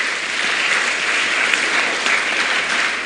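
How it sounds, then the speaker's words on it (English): Scholarship recipients at an awards ceremony clap together in steady, dense applause that runs evenly for about three seconds at close, full volume. "So let's clap for ourselves."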